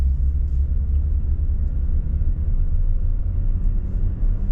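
A third-generation Toyota Tacoma pickup with a manual transmission driving along, heard as a steady low engine and road rumble from inside the cab, loud and continuous with no talking.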